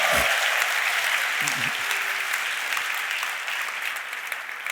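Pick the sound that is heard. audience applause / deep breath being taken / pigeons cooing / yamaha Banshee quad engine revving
audience applause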